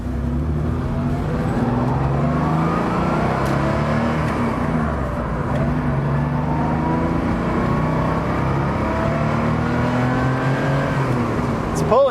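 A Porsche 3.2 Carrera engine drones steadily while driving, its rising and falling harmonics hinting at surging revs; speech is faintly present over the continuous engine note.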